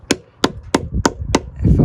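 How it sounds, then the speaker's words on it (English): Someone hammers a copper cuff with five sharp, evenly spaced metallic strikes, close and loud, followed by a rougher scraping clatter at the end. "I think I'm gonna hammer a few"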